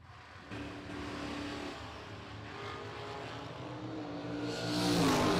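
A door car launches down a drag strip at the Ultimate 64 drag race, its engine roaring from a distance and swelling louder toward the end.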